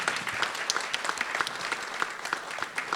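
An audience at an award ceremony for a young architects' exhibition symposium gives a sustained round of clapping. The individual hand claps are crisp and close, and the applause stays steady throughout without any speech.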